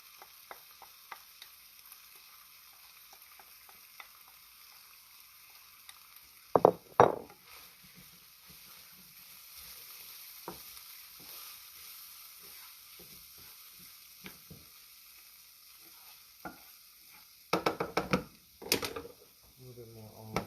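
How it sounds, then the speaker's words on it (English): Corn and onion browning in olive oil in a pan: a quiet, steady sizzle with occasional spoon taps and a few louder bursts of stirring and clinking against the pan. "So we're going to mix in the corn. Give the corn a slight browning."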